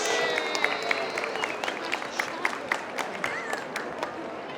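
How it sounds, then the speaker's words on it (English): Audience applause at a cat show catwalk at Olympia in London, a diffuse patter of many hands in a large hall with scattered louder claps and faint voices. "Big round of applause for the"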